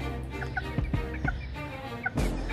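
Tiny Serama chickens cluck steadily in a close, busy chorus, short repeated clucks and soft calls layered over a constant low background hum.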